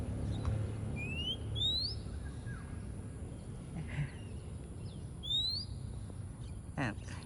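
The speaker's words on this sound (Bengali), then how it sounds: "বাংলাদেশের জাতীয় পাখি দোয়েল।" An oriental magpie-robin sings in an open field in the early morning, giving a few clear rising whistles spaced apart against a low background hum, moderately distant, with no speech.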